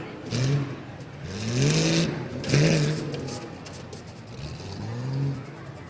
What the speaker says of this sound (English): You're watching Frank White from New Philadelphia, rolling to lap number 2 of 2 tonight